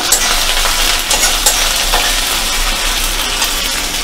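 Cumin paste being stirred in a pan for mixed dal khichdi, with a continuous sizzle and frying hiss plus scraping stirs of the spoon, close and steady.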